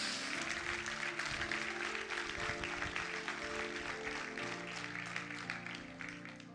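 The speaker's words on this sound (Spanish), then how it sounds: "Denle un aplauso a Dios." Congregation applause at a Spanish-language church service, a steady wash of clapping that fills the whole stretch, with music or organ tones held underneath and no clear speech on top.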